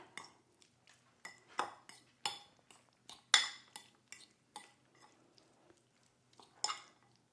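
A spoon stirs tuna and cheese filling in a bowl, making a run of separate clinks and scrapes against the bowl in an irregular rhythm, close and fairly crisp, with quiet gaps between strokes.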